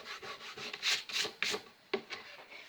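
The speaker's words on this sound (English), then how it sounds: "So you just rub it off with your finger." A finger rubs liquid rubber solution off a painted surface, giving faint, close, uneven rubbing and scraping strokes in short bursts.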